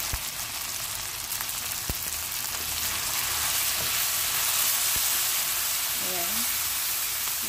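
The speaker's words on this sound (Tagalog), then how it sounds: "Igisa natin" Pancit ingredients sauté in a pan with soy sauce, giving a loud, continuous, close sizzle with a few sharp utensil clicks and a brief voice near the end.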